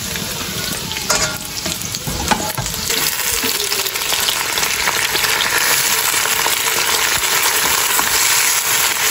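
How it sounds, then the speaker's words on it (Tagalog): Garlic sizzles and fries steadily in a hot pan while sinigang with salmon head is being started, a loud continuous crackle with occasional stirring scrapes and no talking. "Lagay na natin bawang."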